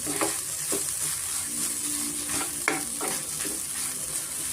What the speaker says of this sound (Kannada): ಹಸಿಕಾಯಿ ತುರಿ ತೊಗೊಂಡಿದ್ದೀನಿ ಅದನ್ನು ಸ್ವಲ್ಪ ಇದೇ ಬಿಸಿನಲ್ಲಿ ಸ್ವಲ್ಪ ನಾನು ಹುರ್ಕೊತಾ ಇದ್ದೀನಿ